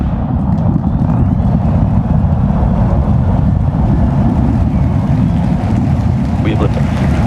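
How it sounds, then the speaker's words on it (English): SpaceX Starship rocket at liftoff on flight test 10, a loud, continuous low rumbling roar that holds steady throughout, with no clear talking over it. "We have liftoff."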